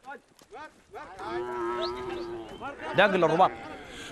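Cattle moo loudly and at length close by, with other animal calls and people talking around them, as calves are vaccinated against contagious diseases on a farm in Sudan.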